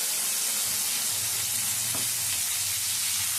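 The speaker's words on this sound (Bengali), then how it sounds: "মশলাটা দিয়ে মশলাটা কিছুক্ষণ ধরে কষিয়ে নেব" Cashew-based spice paste fries in mustard oil tempered with a dried red chilli and whole garam masala, a loud, continuous close-up sizzle and hiss with occasional stirring strokes, no talking.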